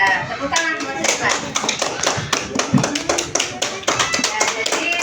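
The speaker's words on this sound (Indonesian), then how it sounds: "tepuk tangan buat Tripa." Students clap in a classroom, a quick, dense patter of many hands that carries on steadily for several seconds, close and fairly loud, with some voices mixed in.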